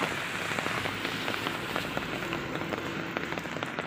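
Steady rain falls outdoors on a walk, a dense continuous patter with scattered louder drops striking nearby surfaces.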